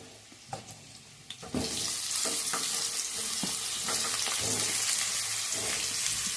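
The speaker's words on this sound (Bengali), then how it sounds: "এবার আমি অ্যাড করে দিচ্ছি কেটে রাখা বেগুনগুলো" Cut eggplant hits hot oil with a sudden loud sizzle that continues steadily, broken by occasional clinks and scrapes of a utensil stirring in the pan.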